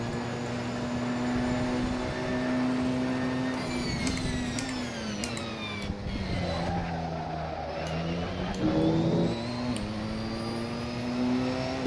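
Porsche 911 race car in Assetto Corsa during a multiclass league race, its engine droning steadily with shifting harmonics as revs drop and climb through gear changes, plus faint tire squeal through a corner.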